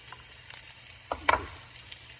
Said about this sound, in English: You want to hear that sizzling.